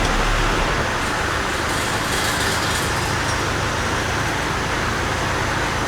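Abandoned 1982 Nissan 720 King Cab truck, just revived and put in gear, moving with a continuous engine drone and road rumble that stays steady and fairly loud throughout.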